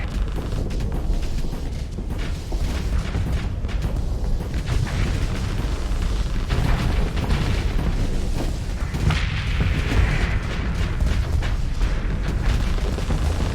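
Missile explosions and weapons fire in the space combat game Starsector, a dense and continuous roar of booms and blasts that stays loud throughout.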